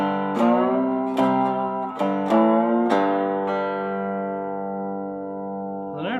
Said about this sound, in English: I do an upstroke on the top string.